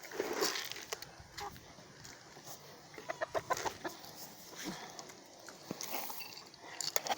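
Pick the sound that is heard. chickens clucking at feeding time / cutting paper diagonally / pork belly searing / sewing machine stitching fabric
chickens clucking at feeding time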